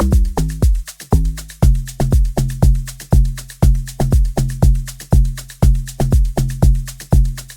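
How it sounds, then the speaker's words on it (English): A log drum bass line from the Fruity DX10 preset, typical of Amapiano and Afrobeat, plays loud and alone: short, punchy, pitched thumps that decay quickly and repeat in a bouncy, syncopated loop. "The next bass pattern is the lock drum bass, which sounds like this."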